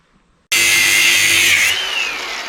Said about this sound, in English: right now I am plasma cutting the spring perches off of the differential